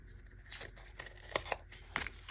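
Scissors snip and trim paper for a journal cover, several quiet close cuts in quick succession with soft papery rustling between them.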